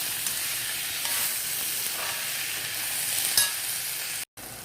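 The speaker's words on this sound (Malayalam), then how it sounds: "നമുക്ക് ടൊമാറ്റോസ് നല്ലതുപോലെ സ്മാഷ് ആവുന്നത് വരെ വഴറ്റാം." Tomatoes sautéing in a pan for chicken kothu parotta, a dense steady hiss of frying with faint stirring, loud and close, briefly cutting out near the end.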